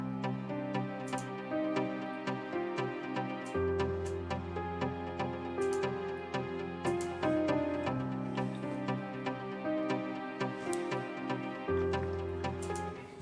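Nexus and UK pack percussion sounds in an FL Studio 3-step Afro House beat: a looping groove of crisp ticking hits and steady pulses over a sustained bass and chord bed, with no voices.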